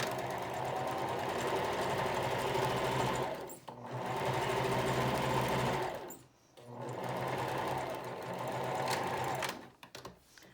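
A sewing machine stitches fabric for a face mask with a filter pocket, a close, loud, steady rapid whirr in long runs with short pauses between them.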